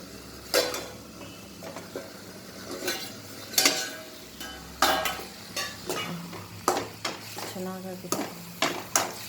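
Ivy gourd (tondekayi) palya cooking in a pan, Uttara Karnataka style, with a soft sizzle beneath repeated spoon stirs and scrapes against the pan, sharp clinks at irregular intervals, close and moderately loud.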